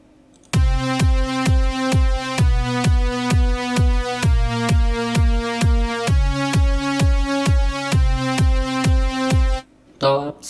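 A sidechained synth in FL Studio has its volume automated by a kick drum signal, giving a steady pumping rhythm: each kick thumps and the sustained tone ducks, then swells back, repeating evenly for about nine seconds before stopping.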